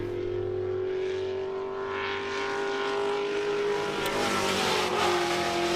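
Race cars on flying laps at a Road Atlanta time attack event, with a steady engine drone and tonal whine, rising in revs toward the end as a car passes by, fairly close and continuous.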